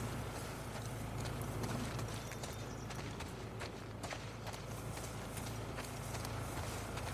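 Horse hooves in The Last of Us Part 2, a steady clip-clop of galloping running continuously under faint game ambience, moderately quiet and even.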